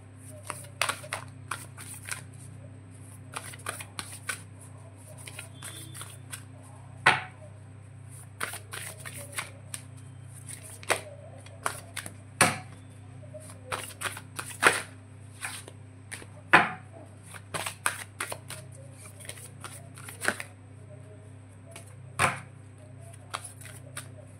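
Tarot cards are shuffled in quiet, irregular riffling bursts over a low steady hum.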